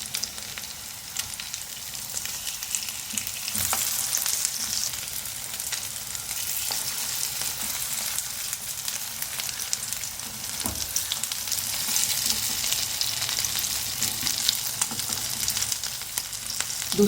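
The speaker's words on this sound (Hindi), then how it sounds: "हल्की आंच में मैं इसको फ्राई करूँगी ताकि अच्छा सा गोल्डन कलर आए इसका।" Chicken shami kebabs fry in oil over low heat, making a continuous, even sizzle with a few soft clacks from handling, close and steady, and nobody speaks.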